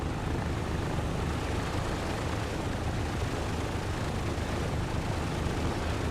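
Vintage DC-3 piston engines idle at the start of a taxi in Microsoft Flight Simulator 2024. The drone is steady and loud, with a broad low rumble that holds without change throughout.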